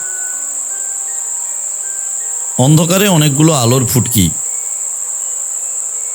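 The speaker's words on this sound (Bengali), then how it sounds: "ঝিঝি ডাকছে" Crickets chirp at night as an effect in a radio ghost story, a steady high continuous trill throughout while someone narrates over it in the middle.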